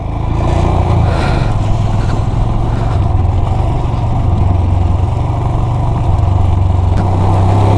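A motorbike engine hums steadily and close while riding the road from Jispa toward Gonbo Rangjon in Ladakh, a continuous low drone with wind noise and no break.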